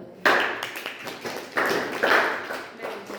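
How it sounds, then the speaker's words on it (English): Students in a classroom clap briefly in scattered, uneven bursts, a few distinct hand claps close by with short pauses between them. "Clapping कर दो"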